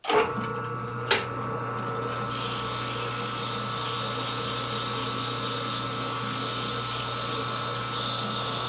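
A Harley-Davidson Sportster 650 single engine part is sanded with 80-grit abrasive, a continuous, loud, harsh buzzing whir that runs steadily after a couple of sharp knocks at the start.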